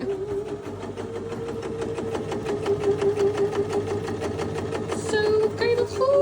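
A new sewing machine stitches pieces of fabric, producing a rapid, even mechanical clatter of needle strokes with a steady motor hum, close and continuous, with a brief voice near the end.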